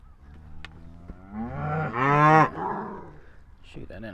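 Cows in a farm field low out in a long, drawn moo that swells and fades, with a second brief call near the end, fairly close and clear over a quiet background.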